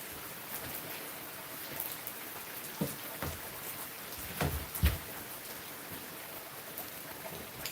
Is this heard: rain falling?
yes